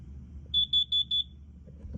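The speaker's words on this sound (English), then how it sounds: "that one's gone back into alarm" A carbon monoxide alarm beeps four times in quick even succession, shrill and clear at close range in an otherwise quiet room.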